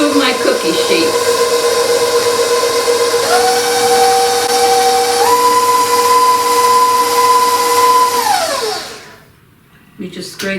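An electric mixer whirs steadily while beating double chocolate espresso cookie dough, its motor tone stepping up in pitch twice as the speed rises, then cutting off near the end.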